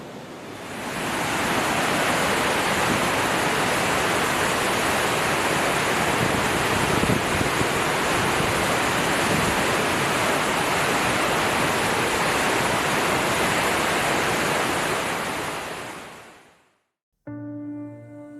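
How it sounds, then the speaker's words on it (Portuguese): Victoria Falls sends a colossal volume of water plunging into a narrow gorge, a loud, unbroken roar of falling water that holds steady and then cuts off abruptly. "um volume colossal de água despenca em uma fenda estreita, criando uma das maiores quedas d'água do planeta"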